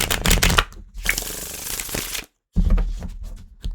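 A deck of oracle cards being shuffled by hand in bursts of dense riffling and rustling, with a brief silent pause in the middle before the shuffling resumes, close and fairly loud.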